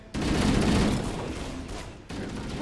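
Rifle fire in Halo CE Anniversary comes as a loud, rapid burst of close shots that eases off and then starts up again near the end.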